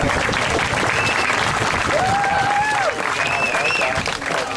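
Loud audience applause and cheering at a drum and bugle corps reunion show, continuous clapping with whistles and shouts rising over it.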